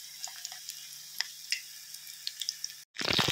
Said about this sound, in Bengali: সুন্দর করে লাল লাল করে ভাজা করে নেব